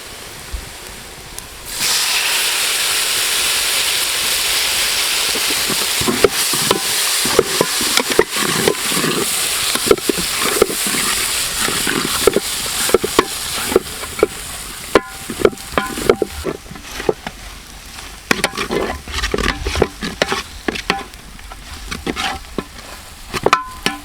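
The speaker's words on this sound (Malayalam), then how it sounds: "അപ്പോൾ ഇതിലേക്ക് നമുക്ക് അരിഞ്ഞു വെച്ചേക്കുന്ന തക്കാളി ഇട്ട് കൊടുക്കാം" Chopped tomatoes frying in masala for a beetroot chicken roast: a loud, steady hiss starts after a brief quiet moment, then dense rapid spoon scrapes and clanks against the pan run on over the sizzle.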